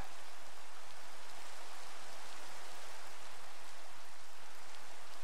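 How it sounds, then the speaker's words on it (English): Steady rain in the Minecraft video game, a dense even hiss of falling drops with faint low-pitched rumble, continuous and moderately loud with no talk. "I actually think more fish spawn when it's raining."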